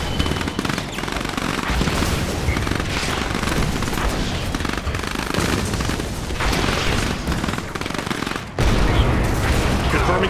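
Tank gunfire in the strategy game Command & Conquer: Kane's Wrath, as a continuous loud battle din of booming cannon shots and rattling gunfire that barely lets up, with a sharp break and a fresh surge near the end.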